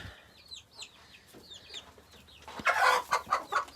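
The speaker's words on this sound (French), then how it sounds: "Là, c'est le coin poussin. Donc, une mère avec son poussin et une mère avec son poussin." Hens with their chicks in a poultry yard: soft, repeated clucks and high peeping chirps close by, building to a louder burst of clucking near the end.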